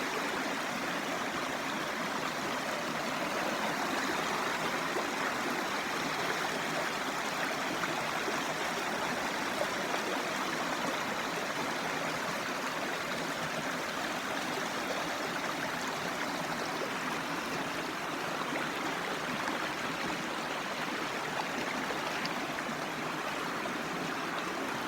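Stream water rushes over the waterfall at Whatcom Falls, Washington, a constant dense hiss and gurgle that stays even and unbroken from start to finish, with no voices.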